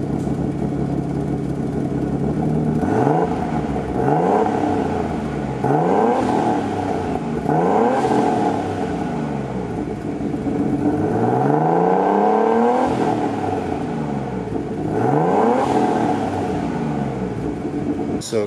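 A car revs repeatedly through a resonator exhaust setup with a known exhaust leak at the gasket, about half a dozen rising pulls climbing and dropping back over a steady idle, close and loud.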